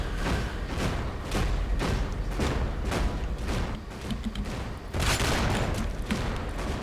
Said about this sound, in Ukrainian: А, це ти стріляєш.